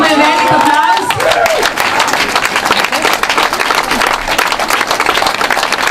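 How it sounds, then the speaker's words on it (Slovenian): Loud crowd applause with steady clapping and some cheering fills a swimming venue at the 2013 Slovenian national championship, honoring a swimmer's race, with a brief tone near the start. "Dajmo jim velik aplavz."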